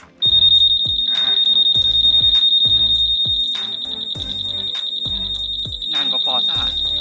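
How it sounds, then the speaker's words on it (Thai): A 2023 Honda Giorno+ scooter's anti-theft alarm blares a loud continuous high-pitched electronic tone, punctuated by repeated rhythmic chirps, sustained for several seconds at close range. "สัญญาณการขโมยดังนานด้วยยาวกว่าฟอร์ซ่ากว่า ADV"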